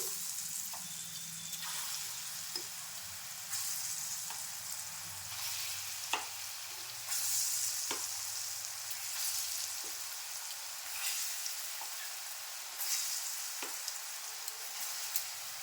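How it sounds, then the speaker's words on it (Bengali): Lentil paste frying in hot oil for festival ladoos, a soft steady sizzle with occasional sharp pops and stirring clicks, close and quiet, no talk. "আবার সেম প্রসেসে আবার ডালটা ভেজে নিচ্ছি"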